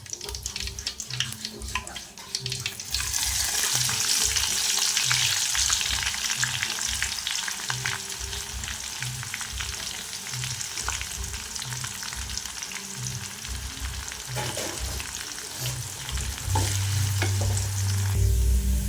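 Mustard seeds and sliced onions fry in a pan with a loud, continuous sizzle and crackle, broken by occasional stirring scrapes, heard up close without speech.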